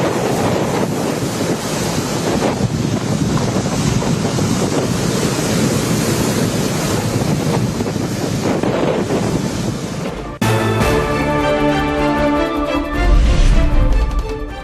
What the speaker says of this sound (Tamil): டிட்வா புயலால் சென்னை மெரினா, பட்டணப்பாக்கம் மற்றும் காரைக்கால் பகுதிகளில் கடல் சீற்றம்.